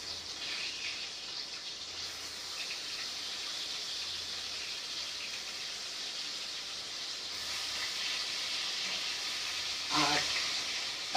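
Food hits hot, smoking cooking oil and sizzles with a steady, bright hiss that lasts the whole time. The sizzle swells slightly toward the end, where a short clatter sounds near the close.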